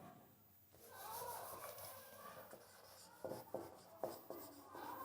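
Pen or chalk writing out notes for a class 10 science lesson on resistor combinations, a faint scratchy stroking that builds into a string of short taps and scribbles, with soft background noise.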